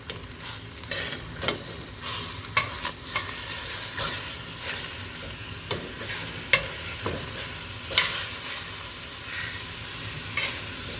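Seaweed and egg fry in a hot pan, a continuous close sizzle punctuated by repeated scraping stirs and utensil knocks throughout.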